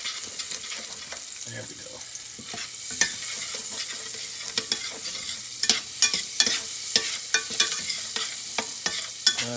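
Eggs for huevos rancheros sizzle and crackle steadily in a hot pan, with sharp pops and occasional stirring scrapes over a constant frying hiss, plus a brief spoken remark.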